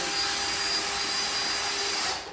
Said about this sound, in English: So I'm just screwing these brackets down, securing these pallets to each other